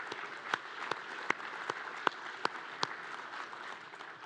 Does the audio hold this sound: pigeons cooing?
no